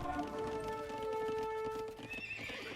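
Horse in the Age of Empires 2 DE video game lets out a loud, clear neigh with hoof clip-clops, a short burst lasting under three seconds.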